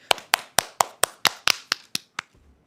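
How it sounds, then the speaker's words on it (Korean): Sharp, close hand claps ring out about nine or ten times in an even, brisk rhythm, each loud and distinct, then trail off into quiet at the end. "박수"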